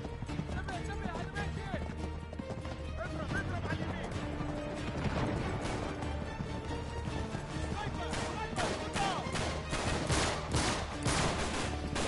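Gunfire in the Uncharted 3: Drake's Deception video game, a dense run of overlapping shots and bursts mixed with game noise, with people talking over much of it.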